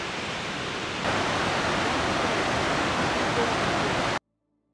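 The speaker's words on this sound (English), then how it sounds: "you hit this amazing basin with these excellent waterfalls right here" Waterfalls pour into Elwha Basin in Olympic National Park, a steady, loud broadband rush of falling water that swells after the first second and then cuts off abruptly.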